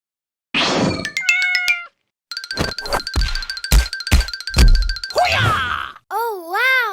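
A cat meows several times in a short run of calls, close and clear, mixed with clinking and tapping sounds of small kitchen objects, ending on a wavering, drawn-out tone.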